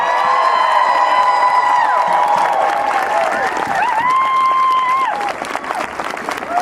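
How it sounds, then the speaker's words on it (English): Loud applause and cheering from a crowd at a Women's March rally after a speech, dense clapping with whoops and high shouts riding on top, sustained close and full throughout. "Let's give Marty another round of applause."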